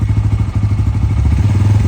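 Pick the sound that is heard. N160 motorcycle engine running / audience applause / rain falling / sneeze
N160 motorcycle engine running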